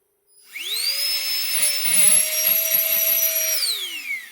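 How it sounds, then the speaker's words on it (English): A Nitecore BB Nano electronic blower fitted with a vacuum nozzle spins up to a steady high-pitched whine, holds for about three seconds with slight fluctuations, then winds down, loud and close. "nozzle on here, and then you can vacuum."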